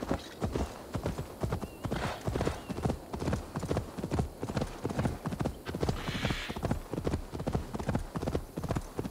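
Horse hooves gallop in a fast, steady clip-clop rhythm along a road in the video game Assassin's Creed Valhalla, loud and close, continuing without a break.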